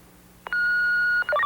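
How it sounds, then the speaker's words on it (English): Cell phone dialing tones: a long steady beep followed by a quick run of shorter tones at different pitches, loud and close with no talking. "Connie, whoever thought that you could trigger a hospital emergency by dialing your cell phone?"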